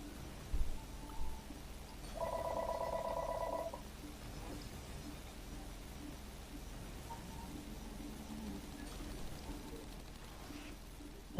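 A telephone rings with one electronic trill burst of about a second and a half, audible over the low background sounds of an AirMech Strike 2v2 game, then stops.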